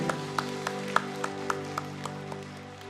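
A church congregation claps along in a steady rhythm during a Sunday worship service, the even beats sounding moderately loud over sustained music.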